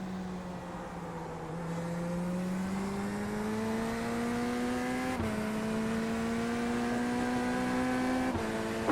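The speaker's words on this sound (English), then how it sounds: "Faster car coming up quick." Race car engine in the iRacing game at Daytona, a loud sustained drone climbing steadily in pitch as it accelerates, with two brief shift breaks and a faster car closing in.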